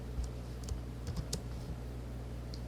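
Quiet keystrokes on a computer keyboard tap out a short, irregular series of clicks against a low background hum.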